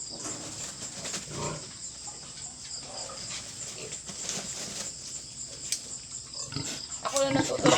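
Piglets squeal and grunt at a pig farm while being given iron injections, with high-pitched cries rising toward the end and a person talking quietly in the background.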